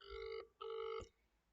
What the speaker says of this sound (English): It is ringing now.